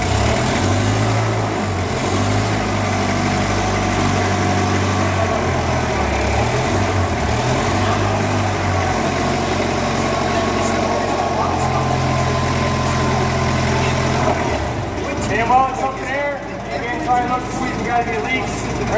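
A forklift engine runs steadily at raised RPM, droning throughout while the hydraulic pump raises and lowers the forks, with a shift in tone near the end.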